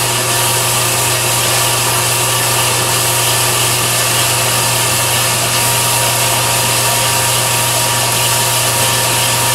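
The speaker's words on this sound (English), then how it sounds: "I'm not gonna bore you with all the sawing." Continuous, steady whine of a powered saw cutting through wooden stock, loud and close, with a constant motor hum and no pauses.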